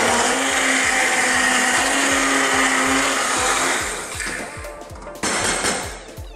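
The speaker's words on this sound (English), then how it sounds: "we're going to need to blend this now" Electric blender whizzing sweet potato soup, a loud steady whir churning for several seconds, dipping in pitch as it slows, then a brief surge before easing off, with no voices.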